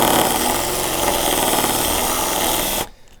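Loud, steady whir of a power drill running a Speed Out screw extractor bit in reverse into a screw, holding constant before cutting off abruptly near the end.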